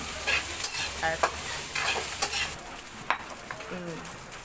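Sinangag, Filipino garlic fried rice, is stirred in a sizzling pan, with a spatula scraping and clinking in irregular strokes over a steady close frying hiss.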